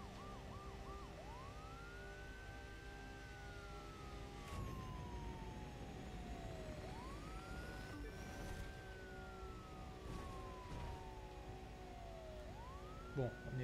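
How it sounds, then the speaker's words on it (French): A wailing emergency siren in the video game The Crew 2 rises and slowly falls in repeated long sweeps, steady and moderately close over a constant background rumble. "on n'est pas là pour s'amuser avec les sirènes non plus"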